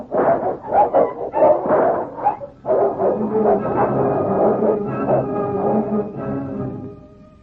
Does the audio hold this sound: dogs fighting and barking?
yes